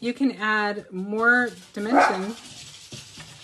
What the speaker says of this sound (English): Excuse my dogs. My dogs say hello.